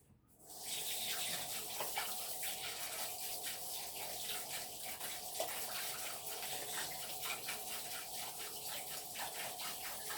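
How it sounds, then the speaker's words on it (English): Cold tap water runs steadily over rice in a strainer, a continuous close hiss and gush with a faint pulsing spatter, starting abruptly and staying even throughout. "I'm just going to rinse that under the cold tap until the water goes clear"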